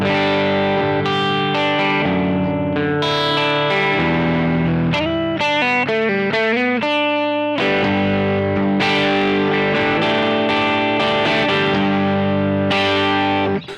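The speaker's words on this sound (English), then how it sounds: "Really cool blues driver sound." Electric guitar driven through a Boss OD-200 pedal in Blues Driver mode, crispy overdriven chords and single-note runs ringing loud and continuous with a bright edge, a short picked melodic passage in the middle.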